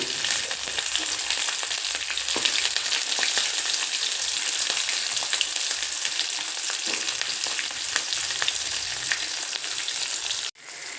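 Onion frying in oil for pulao, a dense steady sizzle filling the whole stretch at close range, with faint stirring and a brief cut near the end.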